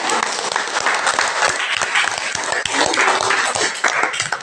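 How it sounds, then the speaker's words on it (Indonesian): Students in a classroom clap together for their classmates' group presentations, a steady burst of close, dense applause lasting throughout with faint voices mixed in. "kita tepuk tangan dulu untuk semua"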